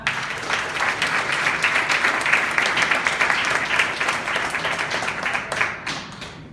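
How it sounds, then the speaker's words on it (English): A crowd applauds, a dense patter of many hands clapping that swells and then gradually thins out toward the end. "Can we give a round of applause for our"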